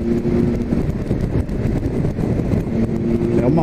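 A Triumph Tiger 1200 Alpine Edition motorcycle is ridden at speed, its engine droning steadily under heavy wind buffeting on the microphone, with a shifting engine tone near the end.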